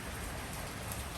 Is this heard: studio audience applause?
no